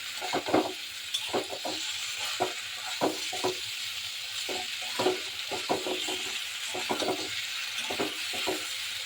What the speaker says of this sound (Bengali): এবার এই সিম আলুটা মশলার সাথে একটু কষিয়ে নিচ্ছি